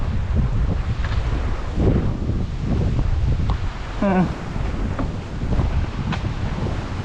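Breezy seaside wind gusting across the microphone, with waves washing in the background and brief bits of voice.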